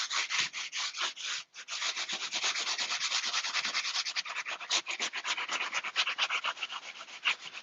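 Continuous hand sanding on a massive painted wooden wardrobe, distressing the finish with steady, rhythmic back-and-forth rubbing strokes, close and fairly loud, with one brief pause early on and no talking.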